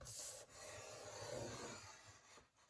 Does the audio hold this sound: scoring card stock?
yes